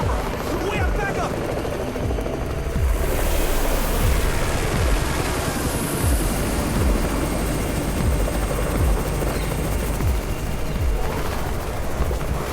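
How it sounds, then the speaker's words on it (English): Helicopter arriving in the zombie survival game Undawn, a steady rotor chop with rapid low thumps under a wide roaring wash of engine and wind noise, continuous and fairly loud throughout. "It's the Raven's chopper! We have backup!"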